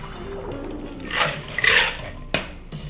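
Watermelon vodkarita is poured straight into a glass already filled with ice, a short close liquid splash with a clink near the end.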